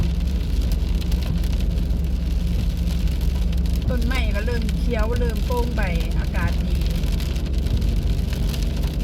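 Steady rain and wind noise inside a moving car on a cold, hail-mixed day, a constant broadband wash throughout with someone talking over it midway.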